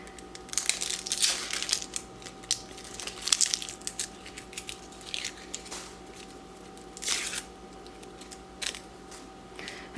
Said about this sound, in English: you just sit down, peel an onion, and you're like zen